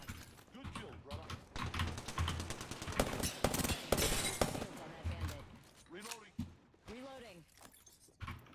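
Rapid gunfire in a squad-based shooter game, bursts of sharp clustered shots crackling over game sounds, with a voice talking intermittently throughout.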